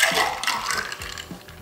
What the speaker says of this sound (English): we're just gonna pour it back and forth a couple times